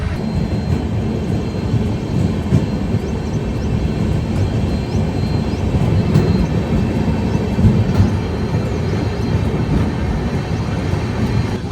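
The Bodinayakkanur Superfast Express runs fast on rails as it curves around a hill, heard from on board as a loud, steady rumbling roar with faint rhythmic clatter throughout.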